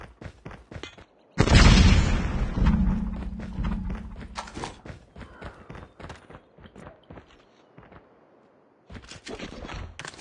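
A grenade goes off in Call of Duty with a loud, sudden boom that rolls into a long fading rumble, framed by scattered gunfire and footsteps before and after.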